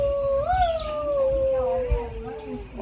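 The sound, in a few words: Arctic fox howling at the zoo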